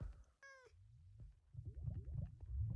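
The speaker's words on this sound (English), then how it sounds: "a cat spawned up here" A cat meows once, short and clear, in the blocky video game Applecraft, then a run of rhythmic rustling, scuffing game sounds grows louder beneath it.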